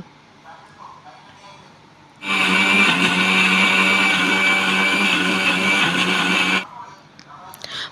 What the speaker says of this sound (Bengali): এই তো এখন আমি মশলাটা ব্লেন্ডার করে নিব